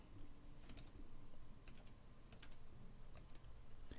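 A computer keyboard during a game session, with clusters of sharp, quick key clicks in bursts over a low steady background hum, close and fairly quiet, no talking.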